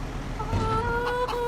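Chickens clucking in the Farming Simulator 25 video game on an Elmcreek farm, several short clucks close by over a low steady background hum.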